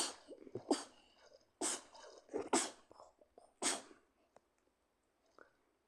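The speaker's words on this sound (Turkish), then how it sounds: "Kaç kere hapşıracaksın?" Several sharp sneezes in quick succession, loud and close, separated by short pauses with faint breaths between them.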